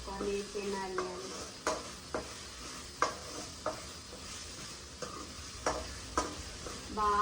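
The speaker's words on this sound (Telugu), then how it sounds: "బాగా కలుపుకుంటూ ఉండాలి" Chicken curry with tomatoes stirred in a sizzling pan, a spoon scraping and knocking against the pan every second or so over a continuous close frying hiss.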